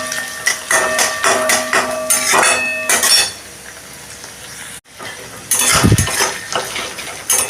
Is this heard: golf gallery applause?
no